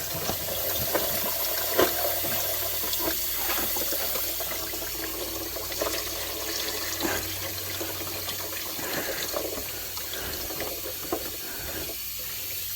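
Engine coolant from a 2003 Subaru Forester with 250k miles draining into a catch pan, a steady splashing trickle of liquid heard up close without a break.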